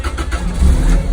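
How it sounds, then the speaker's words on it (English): A car engine under restoration catches after a jump start, cranking into a rough, uneven run that grows louder and steadier toward the end of the short burst. "Had to jump it again. It started,"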